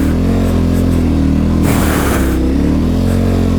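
A KTM 1190 motorcycle engine revving in off-road mode, a loud, close, steady drone with a brief rise in pitch and roughness midway as the throttle opens.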